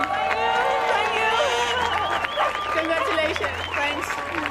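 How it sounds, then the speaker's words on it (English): A crowd at the 2017 ISA World SUP Paddleboard Championship gives a round of applause, a steady broadband clatter of clapping and cheering that runs throughout beneath a person talking over a PA. "Can we hear a big round of applause for Catherine that's been doing so amazing?"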